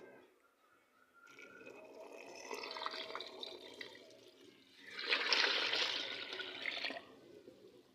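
Coconut milk is poured and stirred into a cooking dish, giving soft liquid pouring and swishing sounds that swell twice over a quiet background.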